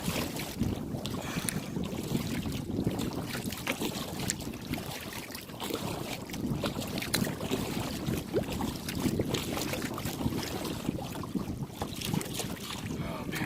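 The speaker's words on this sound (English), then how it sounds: "Oh, it's so hard paddling against the wind" A kayak is paddled against the wind on Lake Elmo in Minnesota, with continuous wind buffeting the microphone and water sloshing steadily throughout.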